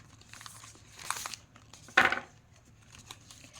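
Angel oracle cards shuffled and handled up close, with soft papery rustles followed by one sharper crinkling flick of the cards, in quiet surroundings with no talking.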